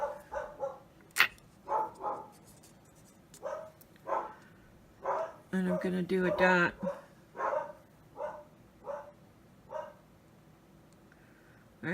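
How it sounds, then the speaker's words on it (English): House dogs bark and yip in a steady series of sharp, repeated bursts, fairly close by. A few short spoken words fall between the barks during a dot mandala painting session. "Sorry for my dogs barking."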